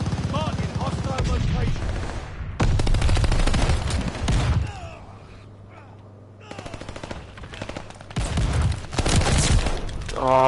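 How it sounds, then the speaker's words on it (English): Rapid bursts of gunfire in Call of Duty Vanguard multiplayer, dense and loud shots in long runs with short pauses between volleys, and some talk underneath. "what was that shotgun?"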